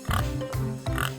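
A pig gives three quick, nasal oinks in a steady rhythm, close and fairly loud, with nothing else around them.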